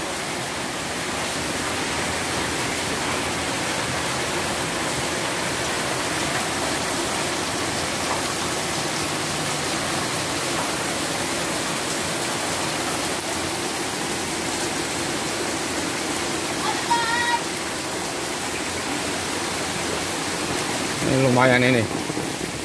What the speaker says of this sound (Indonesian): hujan dari jam 5 subuh sampai jam setengah 9 sekarang